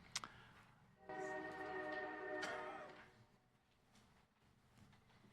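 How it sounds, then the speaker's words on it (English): A train passing near a city council meeting room in O'Fallon, Missouri, with a horn blast sounding for a couple of seconds over a low rumble that fades away, heard faintly and with no talk. "I was waiting for the train to go by"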